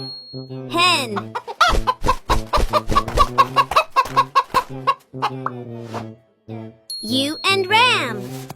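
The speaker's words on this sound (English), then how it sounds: "Hen." A hen clucks in a series of close, rhythmic calls, with sharper squawks at the start and end, among a run of farm animal sounds.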